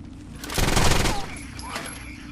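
M9 pistol fired at boxes in the video game Rainbow Six Vegas 2, a loud burst of shots lasting about half a second, then fainter clatter under steady background game noise.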